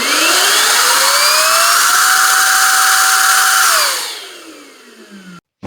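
A Mellif 18 V cordless air blower running on a Makita-compatible battery whirs loud and steady close up, its pitch rising as it spins up, holding, then winding down and fading before cutting off.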